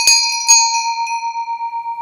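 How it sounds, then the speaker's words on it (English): A nested bell, one bell inside another, struck twice in quick succession and left ringing with a bright, steady tone that slowly pulses as it decays, close and loud with no voices. "this is a bell interesting because it's a bell within a bell"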